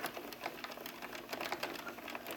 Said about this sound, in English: My machine is starting.